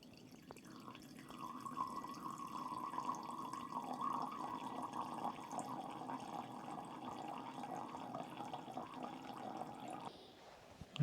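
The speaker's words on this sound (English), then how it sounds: "so pushing that water through the pure clear filter" Water pushed through a Pure Clear water filter streams and trickles steadily for about ten seconds at low level, with a faint clatter at the end.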